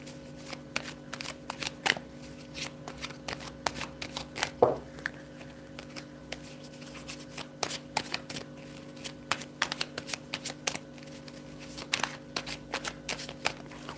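Rapid crisp riffling of a tarot card deck, repeated in quick bursts with short pauses, close and fairly quiet.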